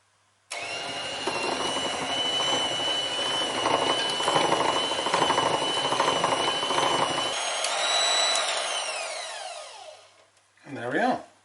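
A stand mixer churns Halloween swirl cookie dough with a steady mechanical whir and grinding hum, holding level for several seconds before the motor winds down and stops, followed by a brief low thump.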